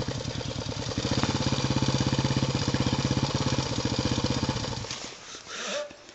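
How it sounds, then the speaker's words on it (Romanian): A small engine starts up and idles with a steady rapid chugging, then cuts out near the end, leaving a brief muffled rumble. "Vine Ghiță, pleacă motorul."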